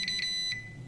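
A multimeter beeps during a continuity test on the copper slip rings of a bad alternator rotor, sounding short, high, electronic tones, a few quick pulses close by with no talking.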